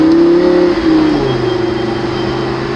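A Lamborghini supercar engine revs hard and pulls through an acceleration, loud and close, with a steady rising drone and a brief gear-change dip partway through.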